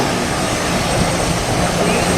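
A steam engine at an outdoor steam show chugs in a dense, steady roar, broad and noisy throughout with no breaks.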